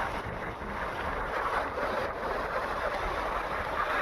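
Steady wind blowing along a seawall shore on a windy day, a continuous broadband rush with microphone buffeting, close and fairly loud throughout, with small waves and a boat nearby.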